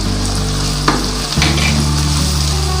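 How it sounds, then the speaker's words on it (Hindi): Onions fry in a pan with a steady close sizzle, stirred by a utensil that scrapes and clinks a couple of times, no voices. "प्याज को थोड़ा सा बस हमने पकाना है और साथ ही अदरक लहसुन का पेस्ट डाल देंगे।"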